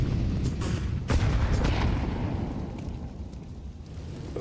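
Grenades go off during a professional Counter-Strike match, heavy low booms and rumbling blasts layered together, dense and loud with one sharper burst partway through, no voices.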